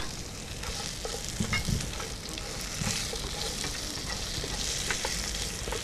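Crispy pork tossed with chili in a hot pan for drunken-noodle udon, a steady oily sizzle with scraping stir strokes and occasional louder clatters, close and continuous with no talk.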